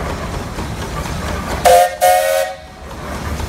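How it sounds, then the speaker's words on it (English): Two short blasts from the whistle of a steam traction engine in a 2018 threshermen's reunion parade, a bright shrill tone sounding twice in quick succession over a background of outdoor machinery noise. "Let's hear the whistle of the award-winning steam engine for 2018."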